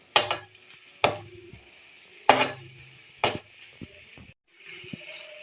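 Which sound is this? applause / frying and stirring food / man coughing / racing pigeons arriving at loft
frying and stirring food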